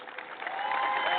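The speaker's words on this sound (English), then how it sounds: "Give him a big round of applause." Audience applause with some cheering, a dense clapping roar that swells and holds steady through the moment.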